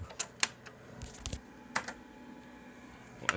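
Sharp, uneven clicks of keys typed on the keyboard of an early-1980s V20 8086-compatible PC, close and distinct, with short pauses between small groups of keystrokes.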